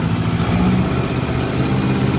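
Kubota MU5502 tractor engine with a digital meter and power steering, running steadily at a raised 2000 rpm, a close, continuous low diesel drone with no talk over it.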